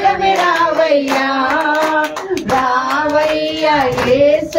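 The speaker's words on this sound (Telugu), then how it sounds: "చప్పట్లు కొట్టు చెప్దామా" Hands clap in rhythm along to a Telugu Christian worship song, steady beats mixed under prominent sung melody and voices.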